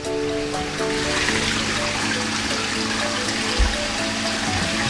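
A tap runs steadily to rinse a brush used on a koi pond filter, a close, continuous splashing stream of water that stays even from start to finish, with no voices.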